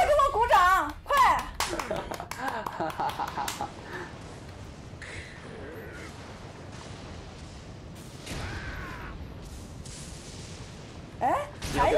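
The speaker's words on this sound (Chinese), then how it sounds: "快给我鼓掌，快！" Hands clap in quick, sharp bursts of applause indoors near a person playing Sekiro, the claps clustered at the start and briefly again near the end, mixed with excited talking.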